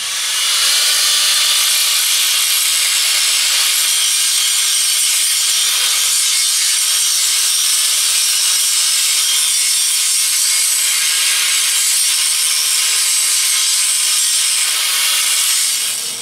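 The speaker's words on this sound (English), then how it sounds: "that was me grinding" Metal scrap being ground during a large-scale ore car build, a harsh, steady high-pitched grinding rasp that runs loud and unbroken for the whole stretch with no talking.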